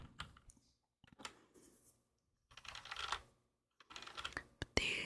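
Clicky keystrokes on a Roccat Vulcan 121 mechanical keyboard come in short quiet bursts separated by pauses, close up with a sharper clack near the end.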